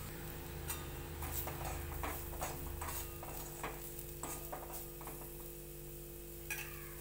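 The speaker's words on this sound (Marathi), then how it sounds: "इकडे मी गवारी शेंग भाजायला ठेवलेले आणि इकडे कांदा पण शिजतोय" Chopped onion cooks in a pan with chicken masala powder, chutney, turmeric and coriander powder stirred in. A faint, steady sizzle runs under repeated scraping stir strokes, with no talk.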